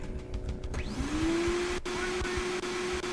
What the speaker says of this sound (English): It's a fucking vacuum cleaner?